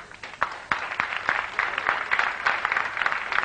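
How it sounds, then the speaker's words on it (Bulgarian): Live audience applause at a folk music television show, a scattered run of claps with sharp individual hits standing out, moderately loud and steady for a few seconds. "Благодаря ви за аплодисментите и овациите."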